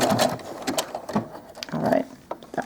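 A sewing machine stitching doll clothes runs in short, uneven bursts of rapid mechanical whirring, close and fairly loud, with brief pauses between the runs.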